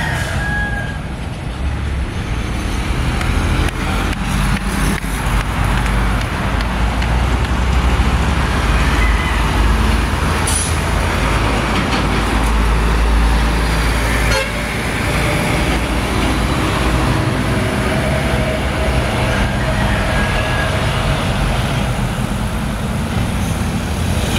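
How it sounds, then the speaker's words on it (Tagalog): Busy highway traffic in Lapasan, Cagayan de Oro, with many vehicles: a loud, steady roar of passing engines, brief higher tones that may be horns, and a faint rooster crow somewhere in the background. "Daming sasakyan."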